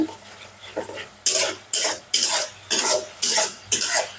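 Spice paste with a split bay leaf being sautéed in a pan for a coriander fish curry, heard as rhythmic scraping stirring strokes over a steady sizzle, close and fairly loud, about six sweeps in a row.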